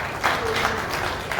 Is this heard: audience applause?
yes